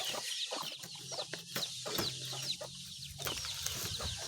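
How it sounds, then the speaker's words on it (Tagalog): A hen clucking on a farm, with repeated short clucks and bird calls coming close and clear in an irregular rhythm over a constant outdoor background. "Ayun na, pumasok na po yung ating inahin na isa."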